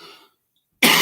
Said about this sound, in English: My coughing is becoming more persistent, so I need to go off now.